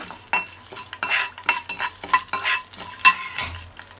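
Mustard seeds, urad dal, cumin and chana dal crackle and pop in hot oil in irregular bursts, mixed with a spoon scraping and clinking against the pan.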